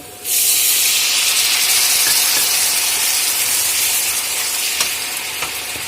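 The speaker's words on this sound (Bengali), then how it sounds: "পেঁয়াজটা একটু লাল লাল করে ভেজে নেব। পেঁয়াজ লাল লাল করে একটু ভাজা হয়ে গিয়েছে। আমি এখানে পানি দিয়ে দিব।" Onions fried until reddish in a pan, with water added: a loud, steady sizzling hiss bursts up almost at once and holds evenly to the end, with a few faint clicks underneath.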